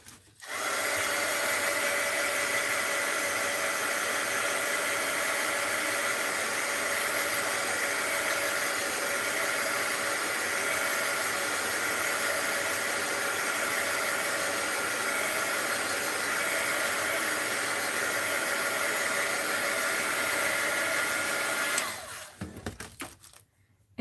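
A heat tool blows steadily over an art journal page, a loud, close, continuous whirring hiss held for about twenty seconds before it cuts off and leaves a few faint handling noises.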